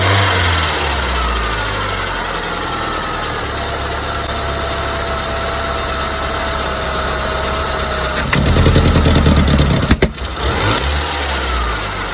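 A Saturn L300 car engine, due for replacement, hums at a steady loud idle, then swells briefly as gas is given, the tone rising before easing back toward idle.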